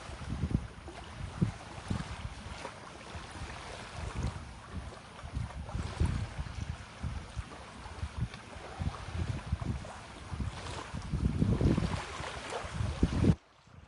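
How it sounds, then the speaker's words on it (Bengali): Water laps and washes steadily against a boat or shore on Kaptai Lake in Rangamati, mixed with rushing wind buffeting the microphone, continuous and fairly close, with no voices. "ভাই পানির আওয়াজটা কি পাচ্ছেন আপনারা?"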